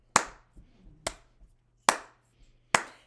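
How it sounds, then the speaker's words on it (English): Four sharp, loud single hand claps ring out at a slow, even pace during a truck-themed children's story time, with faint soft noises between them and no talking. "Can you clap with me?"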